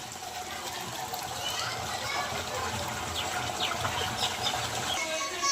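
Water runs steadily into a barrel filled for cattle to drink, a continuous, even rushing flow close by with no break.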